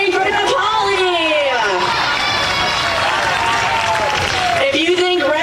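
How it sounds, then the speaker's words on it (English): Crowd at a college baseball game between Tampa and Embry Riddle responds with loud, sustained cheering and shouting across the whole stretch, dense and continuous, with a voice singing or calling over it. "Let's hear some cheering for DePauli"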